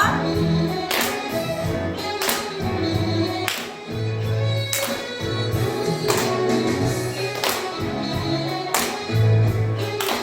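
Children at a church Sunday school worship service clap in steady rhythm along with a sung praise song, the sharp beats recurring regularly under the singing voices and music.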